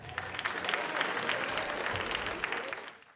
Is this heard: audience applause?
yes